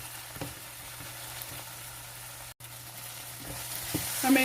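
A salted tomato mixture is stirred in a frying pan for a shiitake mushroom pilau, giving a faint, steady simmering sizzle with soft intermittent scrapes of the spoon and one brief dropout, no talking.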